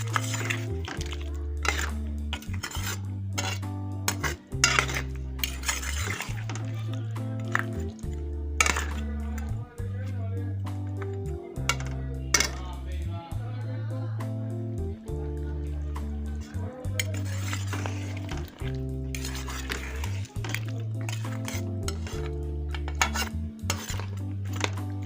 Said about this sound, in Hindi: बीफ की बुनाई हो रही है, जब अच्छी तरह हो जाएगी फिर इसमें पालक डालूंगी।